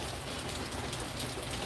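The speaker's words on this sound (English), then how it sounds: "it's just raining down in there" Rain pouring down inside a parked car with wet seats, a steady dense patter and hiss that stays loud and even, with no voices.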